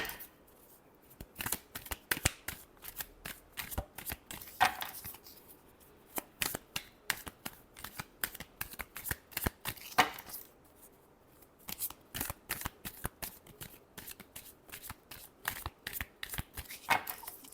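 Tarot cards shuffled by hand in quick, crisp bursts of riffling and flicking, close and clear, in several runs separated by short pauses, with no voices.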